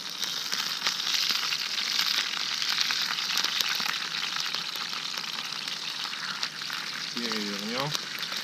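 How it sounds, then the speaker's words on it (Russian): Chicken breast with cheese fries over a slow campfire outdoors in the taiga, sending out a steady, close, hissing sizzle with light crackles throughout. Near the end a brief voice-like sound rises. "А вот так вот на медленном огне оно все равномерно жарится."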